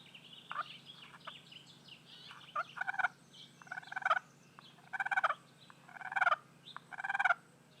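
Slate turkey call built from an old box turtle shell gives a series of high, raspy yelps in short bursts, repeated rhythmically about once a second at close range.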